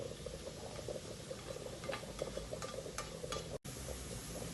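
Onions and garlic for a Filipino beef mongo soup cook in fat in a pot, giving a soft, continuous bubbling and sizzling crackle with scattered pops, heard faintly and without voices.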